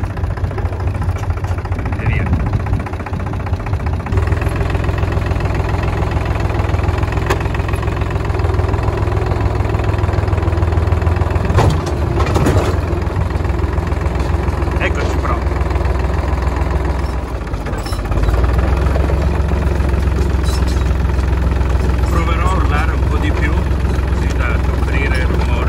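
A motorbike engine idles steadily in a sloping Ribolla Gialla vineyard, a continuous low throbbing drone with brief rattles and shifts, while a person talks over it.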